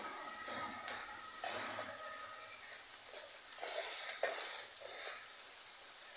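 Prawns and spices, chili powder, Kashmiri chili, cumin and turmeric, sizzle steadily in a hot pan, a dense continuous frying hiss with occasional soft stirring scrapes throughout.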